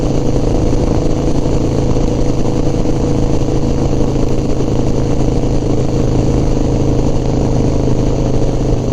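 A Harley-Davidson FXR motorcycle engine runs loud and close with a dense, continuous low rumble at a steady pace. It holds even throughout, with no talking over it.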